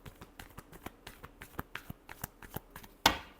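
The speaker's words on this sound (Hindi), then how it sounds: "last shuffle" Tarot cards being shuffled by hand: a series of soft, quick riffles and taps at an irregular rhythm, close and quiet, ending with one sharper card slap.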